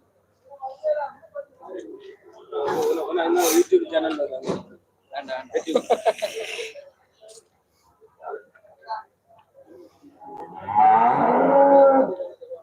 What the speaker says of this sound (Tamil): நாட்டு காளை